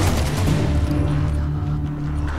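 Heavy gunfire in Resident Evil Revelations 2, a dense, loud volley of booming shots that rolls on continuously with a low rumble beneath.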